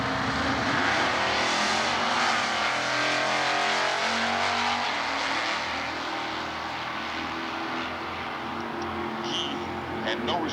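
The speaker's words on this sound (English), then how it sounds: "The dad, Harold, left lane running K stock automatic with an 82 Camaro." Stock eliminator drag race cars, including an 82 Camaro running K stock automatic, roar down the strip at an NHRA race, with a loud sustained engine howl that eases slightly toward the end, and a faint announcer voice beneath.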